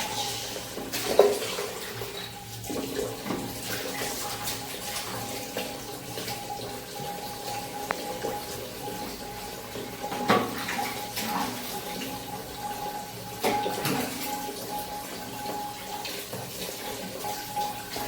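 Lightly warm water runs steadily from a tap into a tub to bathe a dog indoors, a continuous close splashing flow with occasional soft knocks and clinks of containers, and no voices.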